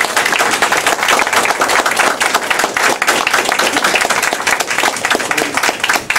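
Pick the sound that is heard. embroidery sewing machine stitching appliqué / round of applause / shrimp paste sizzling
round of applause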